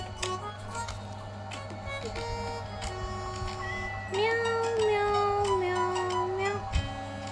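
A voice imitates a cat's meow in a children's rhyme: one long, drawn-out meow with a wavering pitch, clear and close, over a steady background drone.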